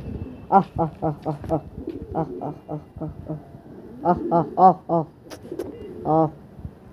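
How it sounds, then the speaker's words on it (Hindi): Pigeons coo in repeated bursts of soft throaty notes, several close by, with short pauses between phrases. "वो कबूतर गुटक रहा है"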